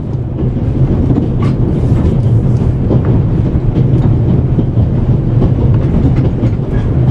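A train moves in the video game The Raven Remastered, giving off a loud, continuous rumble with a faint rhythmic clatter of wheels on rails throughout.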